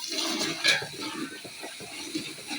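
A small splash of water poured into a pot of beef and potato curry cooked in a large batch, a short, soft trickle and slosh heard on its own at close range.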